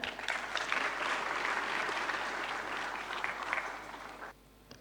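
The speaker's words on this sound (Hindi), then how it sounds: "तालियों के साथ स्वागत।" Audience at the Swadesh Conclave 2023 applauds to welcome a speaker, steady dense clapping for about four seconds that stops abruptly.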